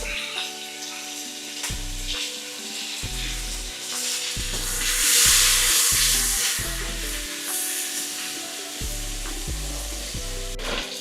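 Freshly diced garlic sizzles in a pan for braised short ribs, with a steady close frying hiss broken by repeated scraping, stirring strokes and a louder sizzling swell midway; no one speaks.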